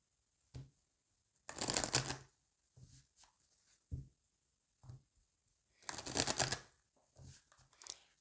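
Oracle cards being shuffled by hand in two longer riffling bursts, with short taps and flicks of cards between them, close and quiet against near silence.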